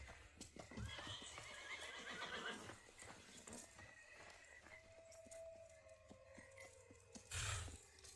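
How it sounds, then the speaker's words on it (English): At night, a horse gives a long, shrill neigh that slides downward, with nearby hoof clops and some stamping around it, in a quiet outdoor setting. "That's one of Edward's horses."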